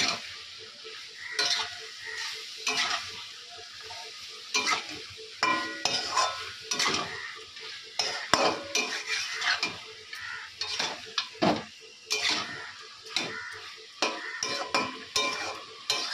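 Chicken sautéing in a pan in a Bengali home kitchen, steady sizzle with frequent spatula scrapes and clinks against the metal pan, close and unaccompanied by speech.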